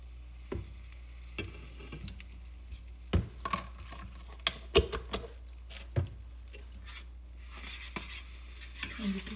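Whipped salted butter stirred into oatmeal in a pot, with soft irregular scrapes and knocks of a spoon against the pot over a low background hum.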